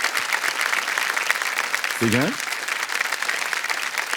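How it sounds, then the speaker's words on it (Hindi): A studio audience on a TV quiz show set claps in sustained, dense applause that fills the whole stretch, with someone briefly speaking over it midway. "कम ताली बज जाए इनके लिए।"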